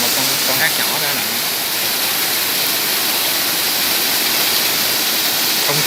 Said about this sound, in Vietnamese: Đây là một con thác nhỏ nữa nè